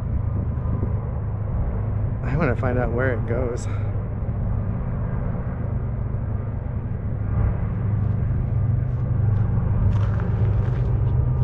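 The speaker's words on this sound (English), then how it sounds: "So we just get back and we have a train" A BNSF train passes through a canyon along the Columbia River Gorge in Oregon, giving a steady, loud low rumble that runs throughout. Someone speaks briefly over it early on.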